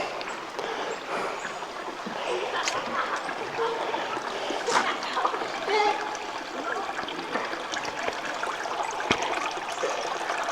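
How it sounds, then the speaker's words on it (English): A creek that flows into Lake Michigan, heard from a bridge in Milwaukee in fall: steady soft trickling and babbling water, fairly faint and continuous, with scattered small splashes and outdoor ambience. "Hopefully you can hear the water there."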